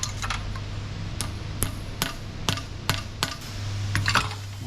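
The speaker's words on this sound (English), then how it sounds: "trusty watchmaker's hammer." Watchmaker's hammer tapping an aluminium plug into a fitting during a BMP-1 infantry fighting vehicle repair, a string of about ten light, sharp metallic taps at uneven intervals over a steady low hum.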